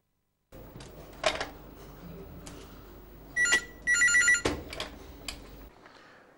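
Landline telephone bell ringing in two bursts, a short ring then a longer double ring, loud and close over a low hum, with a sharp click at the end and no talk.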